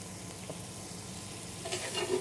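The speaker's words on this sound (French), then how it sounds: "Et on va rajouter une noix de beurre." Butter melting and sizzling in a pan of caramel-coated apples, a soft, steady frying hiss that swells slightly toward the end, with no voices.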